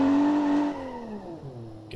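A truck in the BeamNG driving game revs hard and steadily to build heat in its tires, then the engine note slides downward as the throttle eases, staying loud and close throughout.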